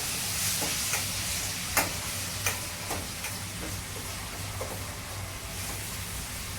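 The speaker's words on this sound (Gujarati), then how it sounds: "મરચાં હલાવો તો ખરી." Chilies stirred as they fry in a pan for paneer bhurji: a steady, loud sizzle with intermittent scraping taps of the spoon against the pan, continuous throughout.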